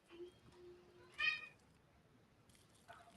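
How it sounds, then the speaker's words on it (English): A house cat gives a short meow in a quiet room, faint and brief, with a few soft household noises around it. "I heard the kitty too."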